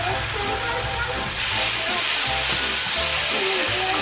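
Minced garlic sizzles in a hot pan with a loud, continuous hiss that swells partway through, with faint background noise underneath.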